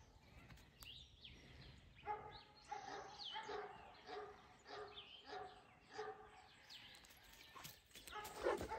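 A dog at a livestock guardian dog rescue farm barks repeatedly in the background, a steady run of moderately loud barks spread across several seconds.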